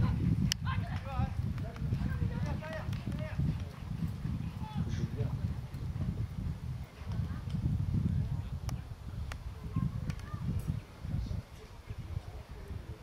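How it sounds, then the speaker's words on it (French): Polo ponies gallop through a match at La Baule, hooves drumming in a fast, continuous rumble with brief lulls, fairly close, while a commentator talks over them. "Ils partent d'un côté, ils repartent de l'autre, on les arrête, ils sont tout le temps en galop."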